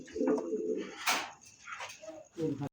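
A pair of large fancy pigeons coo close by in low, throaty bursts, with a short rustle between calls and a few faint chirps, no speech.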